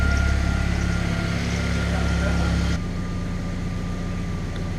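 A car engine idling just under 900 rpm after coolant bleeding on a project car, a steady close droning hum that drops slightly in level partway through.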